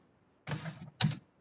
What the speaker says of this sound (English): Oh, my typing is terrible.